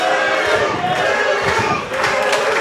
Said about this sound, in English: Listen to this crowd now behind Philly.